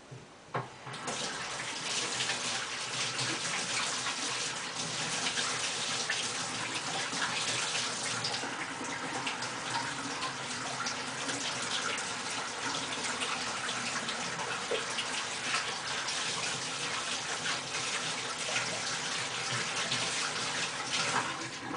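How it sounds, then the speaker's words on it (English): Hands rinsed under a running sink faucet, a steady close hiss of flowing water that continues unbroken for over twenty seconds, with slight splashing changes as the hands move. "I just go over to the sink and rinse it off my hand"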